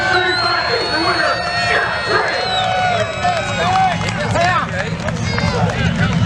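A large crowd of race fans at Shadybowl Speedway cheers and whoops loudly, with scattered shouts rising over steady noisy babble.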